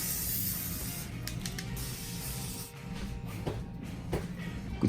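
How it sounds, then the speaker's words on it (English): A short hiss of butter cooking spray sounds close up over pigs in a blanket being prepared for a Pit Boss Austin smoker, followed by faint kitchen handling noises. "let's spray it with a little bit of butter"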